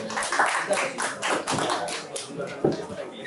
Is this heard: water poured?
no